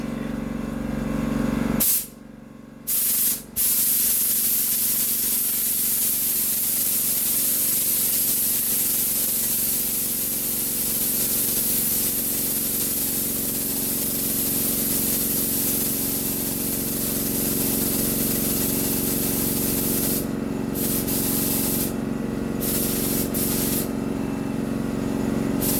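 A compressor-fed spray gun set near 28 psi paints a totaled Jeep during a rebuild, giving a loud, steady broadband hiss that runs almost continuously, broken by a couple of brief pauses early on and a few short trigger releases near the end.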